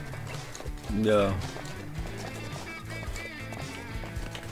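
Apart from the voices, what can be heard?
horse hooves and whinny in a forestry simulation video game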